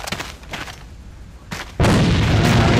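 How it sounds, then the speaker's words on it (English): A grenade explodes in the shooter video game Alliance of Valiant Arms, a loud, close blast that erupts suddenly and roars on after a few sharp gunshot cracks. "Throw a grenade over the boxes."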